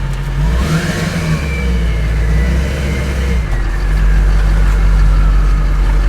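A Duramax diesel engine swapped into a K20 truck revs at half throttle, a loud, steady low rumble that climbs and holds through the pull without a break.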